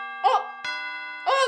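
A school lunch bell sounds in a story game, a sustained electronic chime tone with three bright struck accents spread over a second and a half, clear and close, with no talking.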